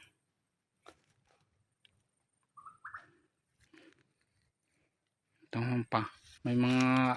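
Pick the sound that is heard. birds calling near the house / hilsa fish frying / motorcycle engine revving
birds calling near the house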